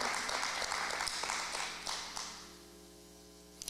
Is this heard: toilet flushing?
no